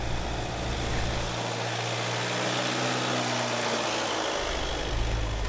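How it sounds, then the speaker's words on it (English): A VW Amarok pickup engine drones steadily as it climbs a steep rutted off-road incline, a broad, close, continuous low rumble that dips briefly in its deepest tone before resuming, with no voices. "I'll get the wheels lined up in the ruts, gently increase the engine speed"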